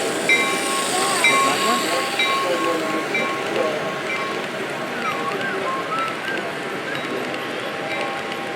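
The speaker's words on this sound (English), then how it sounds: "Look at this big train." A model train rumbles and clatters steadily around a track at a train show, with a faint hum and scattered squeaks throughout.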